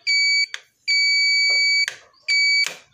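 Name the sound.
Yamaha Freego scooter alarm buzzer sounding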